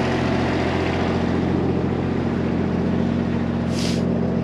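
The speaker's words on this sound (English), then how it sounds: "Hearing the noise as we walk by this generator." A generator runs at an outdoor equipment auction in Blue Ridge, South Carolina, giving a loud, constant, close engine hum with a steady low drone throughout and no speech.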